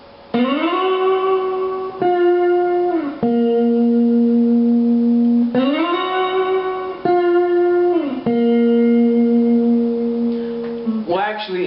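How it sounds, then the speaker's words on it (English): An electric guitar plays the riff from a worship song, clean sustained notes in two repeating phrases with steady pitch steps, clear and alone, ending in a quick flurry. "it goes into this really cool riff"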